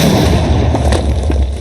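Creeper explosion in the Minecraft video game, a loud, dense burst of noise filling the short clip, with a booming low end and sustained rumble under scattered crackle.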